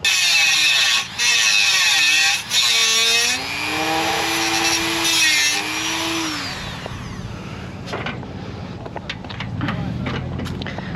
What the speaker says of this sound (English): More grinding!